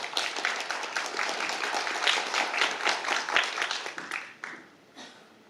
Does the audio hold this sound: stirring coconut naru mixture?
no